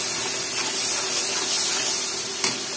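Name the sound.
chili, ginger-garlic paste and meat spices being fried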